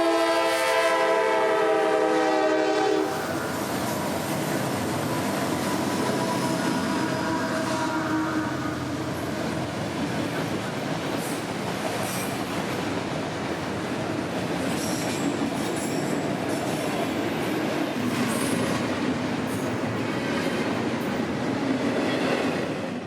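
Priority intermodal freight train I-025 southbound at Folkston, Georgia, opening with a loud sustained horn blast, then a long steady roar of wagons rolling past with faint wheel squeals, close and continuous.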